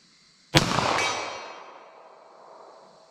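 A single 9mm pistol shot fired at a 75-yard target: one loud, sharp crack followed by a decaying echo that fades over about two seconds, with no voices.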